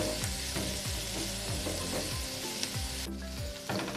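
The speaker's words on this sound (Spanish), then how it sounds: "Ahorita le vamos a agregar la papa rallada y la zanahoria." Grated potato and carrot frying with softened onion in a pan for lentil meatballs: a steady, loud, close sizzle runs throughout, broken by repeated scraping stirs.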